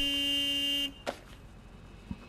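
A long, steady electronic beep in a garbage-cleanup video game holds for nearly a second, then cuts off abruptly, followed by a couple of brief faint knocks in a quiet room.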